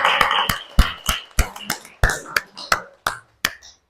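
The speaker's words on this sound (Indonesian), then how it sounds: "Sudah, beri aplaus untuk kelompok" Group 4 gets applause from classmates in a classroom: about a dozen sharp, separate claps and snaps that ring close and fairly loud at first, then thin out and stop.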